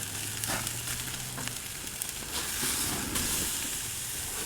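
Ribeye steaks searing on a Camp Chef grill give a soft, steady sizzle and hiss, with faint scrapes and clicks as they are flipped over, fairly quiet and without speech.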